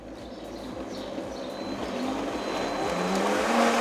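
A food processor blends asparagus cream flavoured with tomme cheese, a steady, close motor whir with a rising pitch that grows gradually louder over a few seconds, with no talk.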